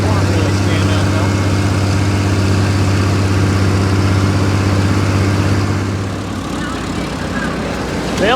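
An open station tractor engine idles steadily at close range in the rain, a low continuous drone that drops slightly in level near the end while cornfield filling work goes on.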